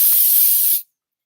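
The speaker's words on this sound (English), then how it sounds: "This is a non-1980s New York City subway dirtbag spray paint amount of Pam." Pam cooking spray hisses into a pan in one steady, loud burst lasting under a second, then cuts off abruptly to silence.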